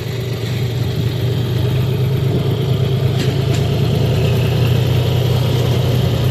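A tractor engine runs in mud on a village track after heavy rains, giving a steady, fairly loud low drone that holds evenly throughout with no talking.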